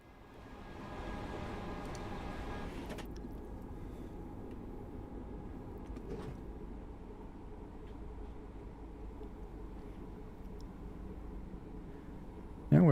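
Cab noise of an electric commuter train in Train Sim World 2 with the windows open, a steady, fairly loud rumble and drone of running on track, with a brief clunk near the end.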